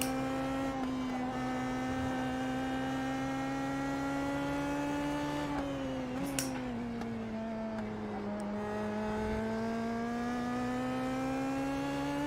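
An Indy Pro 2000 race car in the iRacing sim holds a steady, sustained engine drone throughout, pitch rising and dipping slightly through corners, loud and close with no talking.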